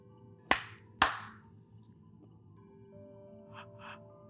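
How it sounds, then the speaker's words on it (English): Two sharp, close hand claps land about half a second apart during a scary story, followed by near silence with a faint, steady background hum. "Clap once for each person."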